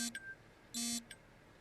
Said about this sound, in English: phone's making noise there